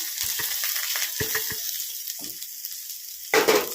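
Dal sizzles and crackles in hot mustard oil in a home kitchen pan, a steady close frying hiss with a few spatters and stirring clinks, swelling louder at the end.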